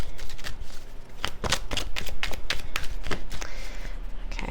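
Tarot cards riffled and shuffled for a Libra reading, a dense run of quick papery flicks and slaps repeating steadily close up, loud and alone without talk.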